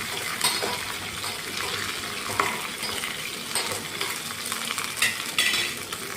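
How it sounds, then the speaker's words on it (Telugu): Green chillies and curry leaves fry in ghee, giving a steady close sizzle and crackle with brief stirring scrapes and small pops throughout, and no voices. "పచ్చిమిర్చి, కరివేపాకు బాగా వేయించుకోవాలి, నెయ్యిలోనే వేయించుకోవాలి."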